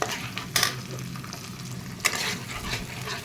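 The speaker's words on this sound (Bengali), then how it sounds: "এরপর আমি এর মধ্যে দিয়ে দেবো টমেটোর পেস্ট" Tomato paste goes into a frying pan for a pabda fish curry made with mustard paste, giving a soft steady sizzle broken by two short, louder scraping stirs.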